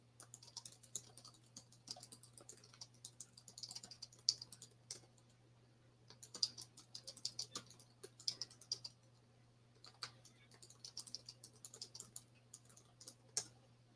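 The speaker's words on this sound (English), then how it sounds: "Let me see if I can try typing." Quiet typing on a computer keyboard comes in irregular bursts of light clicks with short pauses, close but soft and with no talk.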